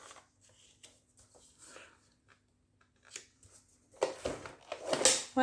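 Paper being creased and folded into a small box for an advent calendar, with sparse crinkles and taps at first, then louder rustling and handling near the close.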